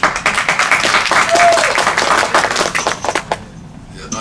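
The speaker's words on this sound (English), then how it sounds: "appreciate everyone keeping the applause down" Audience applause ripples through a California state senate transportation committee hearing, a dense, steady patter of many hands that fades out near the end, with murmuring voices underneath.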